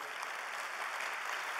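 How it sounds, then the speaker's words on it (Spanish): Applause from an audience at a formal presentation in a Spanish-speaking public institution, a steady wash of clapping that stays fairly faint and distant throughout. "yo quiero dar un aplauso a la Dirección de Transparencia, Datos Abiertos"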